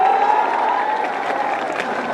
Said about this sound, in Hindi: इसके लिए जोरदार ताली बजाओ सब लोग।